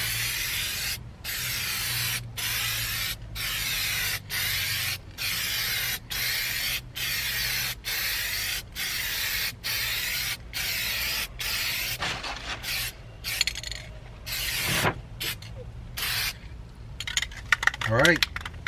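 A spray can coats a sticky RV dashboard in a regular series of short hissing bursts separated by brief pauses, followed by faster, choppier sprays and small clicks near the end.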